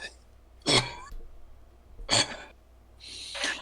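A person coughs and clears their throat in three separate harsh bursts, close and fairly loud, with quiet pauses between them.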